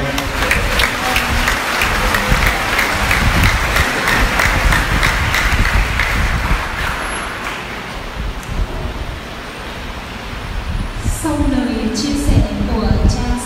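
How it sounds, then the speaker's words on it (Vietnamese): A parish congregation applauds together at an outdoor church gathering welcoming a World Youth Day cross, a steady wash of clapping with wind noise, fading midway as voices and a sustained tone come in near the end. "Chúng ta cùng cố một tràng pháo tay."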